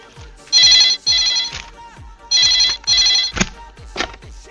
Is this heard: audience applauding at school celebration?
no